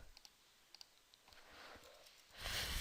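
A few faint, sharp computer mouse clicks tick by in a quiet room, spaced irregularly early on, followed by a soft rustle of low background noise.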